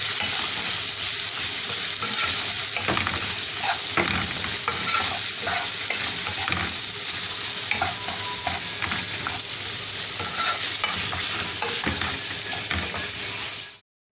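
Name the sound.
chicken breast frying and being stirred with spices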